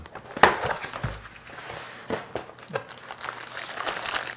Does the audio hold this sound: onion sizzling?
no